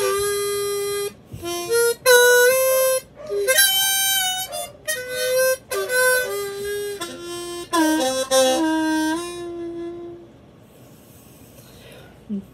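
Harmonica riff on a Golden Bird harmonica in Parrott tuning: a run of bright, reedy bent and held notes in short phrases, close and loud, fading to a soft breathy tail.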